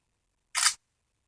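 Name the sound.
ZTE Boost Max phone camera shutter button click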